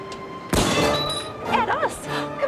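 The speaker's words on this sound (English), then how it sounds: "Someone is shooting." A single sharp gunshot cracks out loudly at close range, followed by a lingering ringing tail with voices talking over it in a 1984 crime drama scene.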